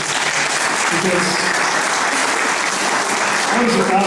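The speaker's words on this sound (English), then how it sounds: "I think we should all applaud Councillor Lansbury for coming here today" Sustained audience applause for Councillor Lansbury at a council rezoning public meeting, a dense, loud, continuous wash of clapping from a room full of people.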